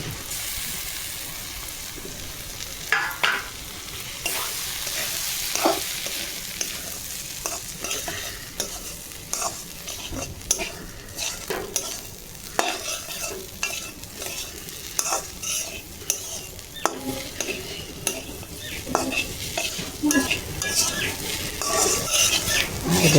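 Jackfruit seeds and dal frying in a pan while being stirred, with a soft continuous sizzle broken by repeated scraping and clinking of a utensil against the pan, close and fairly quiet.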